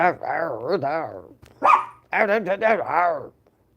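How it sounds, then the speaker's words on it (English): A dog barks several times in quick bursts, close by, with yelping, voice-like tones between barks. "What are you barking for?"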